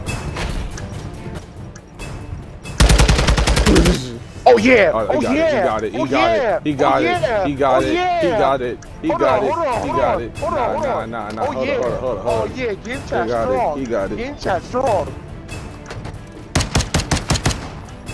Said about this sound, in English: Shoot that dead body, teammate.